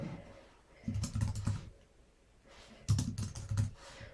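Typing on a computer keyboard while filling in personal details in an online form, two short bursts of quick, close keystrokes separated by a pause, with no talking.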